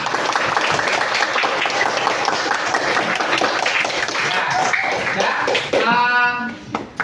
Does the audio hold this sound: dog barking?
no